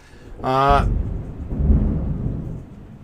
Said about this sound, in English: you're going to hear some thunder in the background